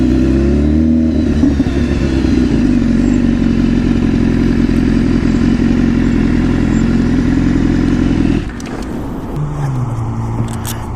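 Sport motorcycle, an RR model, revving hard and loud in first gear on city roads, a sustained high-pitched engine whine held for about eight seconds before it drops off and settles into a lower drone.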